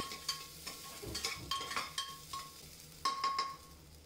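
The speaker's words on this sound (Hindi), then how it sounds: "करीब 1 मिनट के लिए भून लेंगे।" Ginger garlic paste frying in a pot with sizzling, punctuated by repeated scraping and clinking as a spoon stirs against metal.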